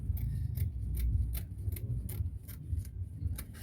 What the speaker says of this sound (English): I'm going to trim it out to make it equal.